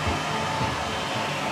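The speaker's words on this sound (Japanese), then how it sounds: "このエアレスドライヤー" An airless hair dryer blows nearby while bangs are being styled in a hair salon, giving a loud, continuous, even rush of air with no speech.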